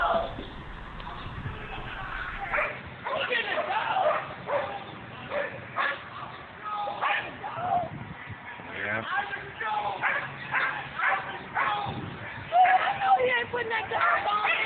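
Police dogs bark and yip while attacking a handcuffed man, the barking heard through continuous overlapping voices and commotion.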